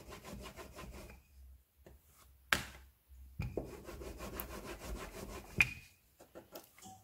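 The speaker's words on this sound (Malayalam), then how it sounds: "നല്ല തിന്നായിട്ട് നമുക്ക് പരത്തിയെടുക്കാം." Oats chapati dough being rolled out thin with a rolling pin, giving repeated soft wooden rubbing strokes close by, broken by a couple of sharp knocks.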